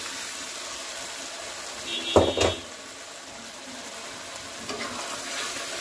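Taki fish heads sizzle in a pan of oil for a Bengali gourd curry, a steady low hiss with one loud, sharp burst of spitting and stirring near the start and a smaller flare near the end.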